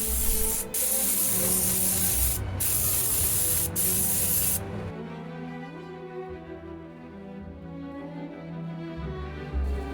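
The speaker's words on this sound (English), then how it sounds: "I'm putting down 3 layers of paint. We're just gonna use this as a build-up primer to sand later." Primer sprayed from an aerosol can onto a DIY speaker cabinet, a loud steady hiss in long bursts with brief pauses, then a quieter, duller stretch of spraying toward the end.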